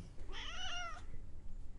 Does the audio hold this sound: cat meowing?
yes